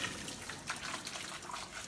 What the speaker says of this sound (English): So I'm going to drain this